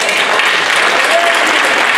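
Steady applause from an event audience gathered for a call for justice for a family, dense and even for the full two seconds with a faint voice underneath.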